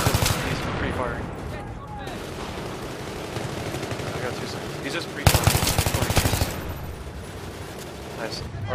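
Rapid automatic gunfire in Battlefield 3 on the Operation Metro map, dense bursts and a sharp loud volley midway, with players talking over the shooting.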